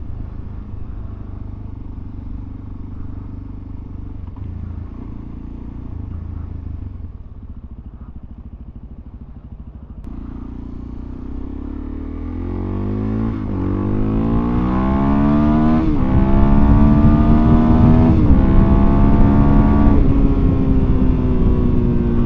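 Suzuki DRZ400SM supermoto motorcycle on the road, steady engine drone at first, then rising harmonic revving as it accelerates and upshifts, growing louder and closer with a strong continuous roar and no talk.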